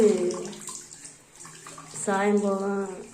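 Water sloshes and trickles softly as the falls border of a saree is soaked in a basin, under someone speaking throughout.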